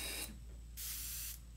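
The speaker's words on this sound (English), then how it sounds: "I am spraying a small area, so there's not going to be much overspray." An airbrush spraying Createx paint over a small area while painting a realistic cat's eye, a brief opening hiss followed by a longer steady burst of fine, close, airy spray.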